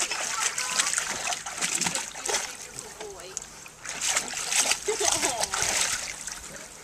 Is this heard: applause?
no